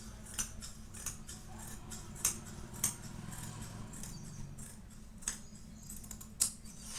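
Scissors snip through fabric while a child's frock is cut out, a series of sharp, close, irregular clicks over a faint hum.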